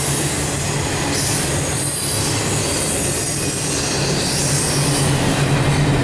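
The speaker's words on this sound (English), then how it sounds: "That's that train I saw this morning on Horseshoe Curve." A freight train hauled by several engines rolls along Horseshoe Curve, a loud, continuous rumble with steady wheel noise and high metallic squeal throughout, close by and with no voices.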